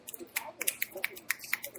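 A quick series of crisp finger snaps, about a dozen in under two seconds, sharp and close, from callers on a radio call-in show, with a voice speaking lightly between them.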